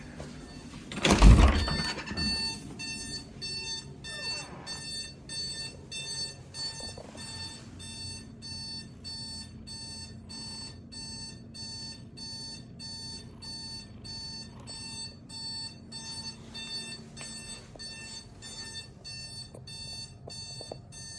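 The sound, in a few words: alarm ringing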